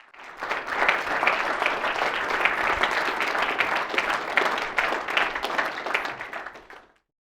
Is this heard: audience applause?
yes